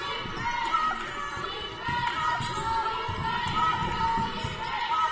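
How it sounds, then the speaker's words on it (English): Crowd noise fills an indoor arena during a women's basketball league game between the Archers and the Wildcats, a steady roar of voices with shoe squeaks and ball bounces underneath, holding loud for the whole stretch. "a lot of noise here in the Archers arena"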